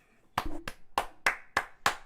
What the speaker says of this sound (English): round of applause for Leicester City